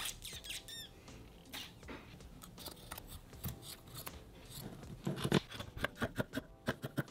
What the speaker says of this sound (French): Je vais essayer de couper.